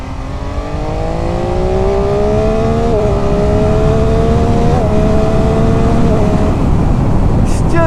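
A 2019 MV Agusta F3 800 motorcycle engine winds up hard under a rider's helmet mic, its rising howl dropping briefly at each quick-shifter gear change, loud and continuous against heavy wind rush.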